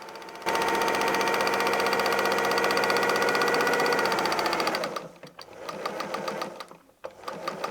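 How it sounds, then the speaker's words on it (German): A sewing machine chain-piecing patchwork triangles runs in a fast, even, loud hum for several seconds, then slows into shorter bursts and stops. "Wir können alle 4 Dreiecke in einer Naht zusammennähen,"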